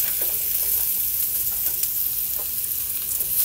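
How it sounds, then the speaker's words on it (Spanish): Onion frying in hot oil in a pot, a steady close sizzle and crackle of browning onion that runs without a break, with faint stirring ticks now and then and no voices. "Vamos a dorar un poquito de cebolla."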